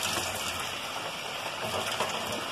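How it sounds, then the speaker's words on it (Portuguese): Water pours from a tap or container into a cooking pot in a home kitchen, a soft, steady gushing stream heard up close and fairly quiet, with no talk. "Eu vou colocar um pouquinho de água"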